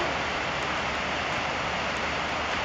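Airplane in a Roblox game, a loud, continuous wide roar of engine and rushing air that holds steady throughout with no talking over it.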